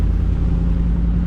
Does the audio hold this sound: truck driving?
yes